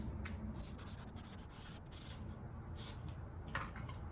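Soft, steady scratching of a pen or pencil moving across paper, close up and quiet, with small pauses between strokes.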